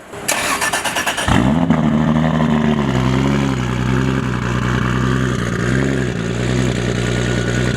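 A tuned 1500 hp Toyota Supra 2JZ engine cranks and catches, then settles into a loud, deep, steady idle with a few light revs, close up.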